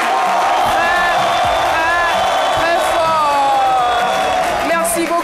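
A studio audience at a midday TV show cheers and applauds a team being introduced, with whoops and shouts riding over a loud, continuous crowd wash and faint clapping beneath.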